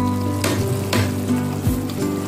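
Chili powder, coriander powder, fenugreek, cumin powder and turmeric fry in a hot pan. A steady sizzle carries a low hum, broken by a few louder scraping stirs of a spoon.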